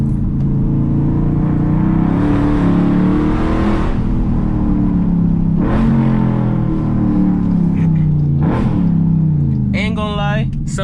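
A 500hp Dodge SRT Durango engine accelerates on a drive, heard from inside the cabin. Its deep, steady roar climbs and falls in pitch through several pulls and stays loud throughout.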